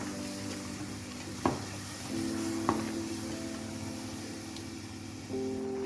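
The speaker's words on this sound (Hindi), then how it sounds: "और अब हम इसको अच्छे तरीके से मिक्स करेंगे।" Chicken pulao with a blended yogurt, green chilli and tomato paste is stirred in a pan, giving a soft continuous sizzle under a faint steady hum, broken by two sharp spoon knocks.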